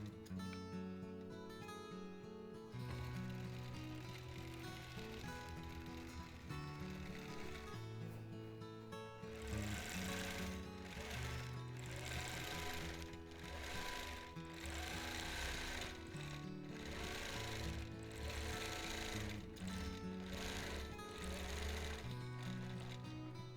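A quilting machine stitches a tree pattern on a custom quilt, its steady rapid mechanical whirring running continuously and loud, shifting speed partway through.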